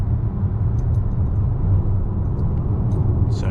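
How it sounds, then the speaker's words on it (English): Steady road and tire noise inside a 2021 Hyundai Palisade Elite 2.2L turbo diesel cruising on a rough, noisy road surface, a constant low rumble with a faint hiss and a few small ticks. "You can hear a bit of road noise and tire noise."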